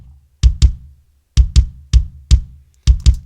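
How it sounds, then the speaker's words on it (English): Acoustic kick drum sample played in an EXS24 sampler: punchy, deep thuds hitting in pairs, four doubled hits in a steady rhythm, dry and close with nothing else. "In the end, I just settled on this one,"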